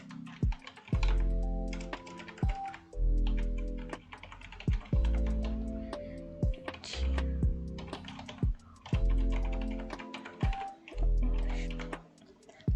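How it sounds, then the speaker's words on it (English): Someone types a URL on a computer keyboard: short runs of crisp key clicks, close and moderately loud, with a looping melodic tune playing underneath. "I'll type in the URL."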